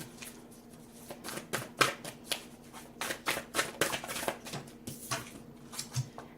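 Tarot cards being shuffled by hand, a run of quick papery riffles and soft slaps in uneven bursts, close and clear with no talk over them.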